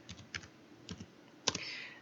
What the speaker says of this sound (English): Hit the Enter key on the keyboard